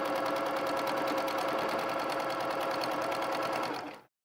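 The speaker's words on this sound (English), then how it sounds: "Sewing this to the end just like it goes like this." A sewing machine stitches a quilted pillow cover, running in a fast, steady mechanical rattle close by for several seconds before stopping abruptly.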